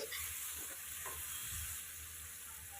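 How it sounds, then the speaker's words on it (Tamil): Radish and tomato sautéing in a pan for chutney, a steady close sizzle with faint scraping stirs underneath, continuous throughout. "இப்போ இது கூட நம்ம ஆல்ரெடி வதக்கி வச்சுருந்த முள்ளங்கியை சேர்த்துக்கலாம் சேர்த்து நல்லா இந்த மாதிரி ஒரு ஒரு நிமிஷத்துக்கு நல்லா வதக்கி கொடுத்துக்கோங்க"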